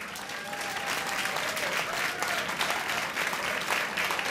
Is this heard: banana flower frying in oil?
no